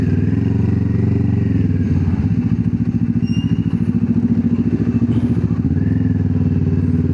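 Enduro motorcycle riding just ahead on a road, a near, steady pulsing single-cylinder-style thump that rises and settles, heard alone from a following rider without talk.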